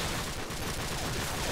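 Continuous gunfire from an M14 rifle during a competitive Counter-Strike match, a dense rattling barrage of game shots that stays loud and steady across the whole moment.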